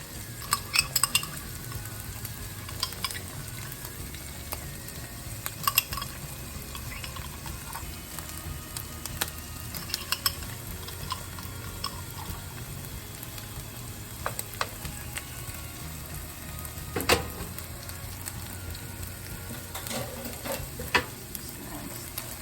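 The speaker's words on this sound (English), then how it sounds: "Then I'm going to add the garlic." Garlic sizzles in a pan for an egg roll in a bowl dish, a soft, steady frying hiss punctuated by sharp scrapes and clicks of the utensil against the pan, with no talking.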